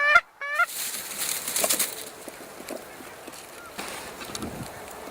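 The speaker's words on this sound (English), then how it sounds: "how many geese are sitting out there" Distant geese honk and call in scattered bursts across an open field, with faint rustling and breezy background noise between the calls.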